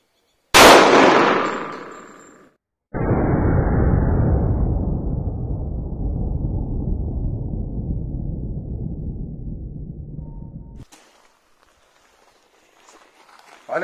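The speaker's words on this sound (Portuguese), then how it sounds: "último tiro com munição 45, Gold X na pistola" .45 Gold Hex round fired from a single-stack Taurus 1911 pistol, one sharp loud report that decays over about two seconds, followed by a long, steady rumbling noise.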